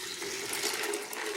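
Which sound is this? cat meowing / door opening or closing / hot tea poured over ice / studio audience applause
hot tea poured over ice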